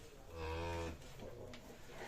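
A cow gives a single loud, drawn-out moo at a cattle sale where several breeds are on offer, some with calves, some pregnant or in milk. Quieter farmyard noise follows the call.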